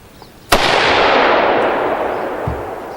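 One sharp, loud AR-15 rifle shot fired through a muzzle brake during an outdoor recoil test cracks out close by and rolls into a long, fading boom, followed by a faint secondary thump.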